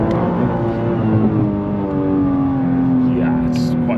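A Nissan GT-R Nismo V-spec accelerates on Tokyo streets, its engine note rising in a strong, steady climb heard from inside the car, with voices talking over it.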